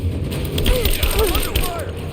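Gunfire in Rise of the Tomb Raider, with rapid rattling shots and distant bursts from a firefight, with shouted voices from soldiers under fire heard over the loud, continuous battle din.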